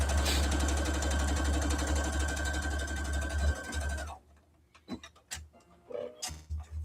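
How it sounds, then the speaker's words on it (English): A sewing machine runs a straight seam on a small reversible tote bag, a steady loud mechanical whir for about four seconds that stops abruptly, followed by quiet clicks and light fabric handling. "we're going to sew a straight line down here"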